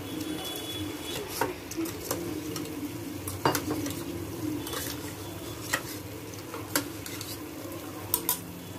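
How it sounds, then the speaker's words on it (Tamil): A utensil stirring agar agar into watermelon juice in a container, with soft continuous swishing and intermittent clinks against the sides, close up with no speech. "அகர் அகரை வந்து அந்த தர்பீஸ் ஜூஸ்லேயே நம்ம கலக்கிக்கலாம்."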